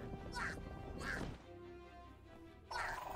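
Duck grenade in Mario + Rabbids Kingdom Battle going off with a string of comic quacks, three distinct quack bursts with a crashing thud between, fairly quiet, with game music underneath.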